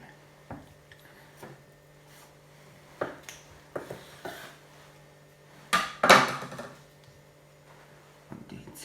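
Knife cutting smoked Transcarpathian pork shovdar on a board, scattered close taps and clicks with a louder scraping crunch partway through, in a quiet room.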